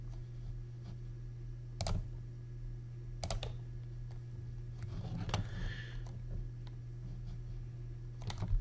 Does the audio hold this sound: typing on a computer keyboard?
yes